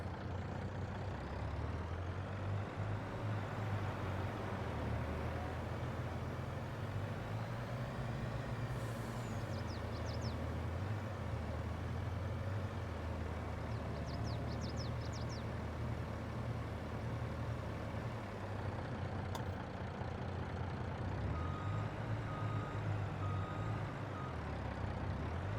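Truck in a farming video game driving and reversing, its steady engine drone running throughout with two short bursts of reversing beeps partway through, no talk over it.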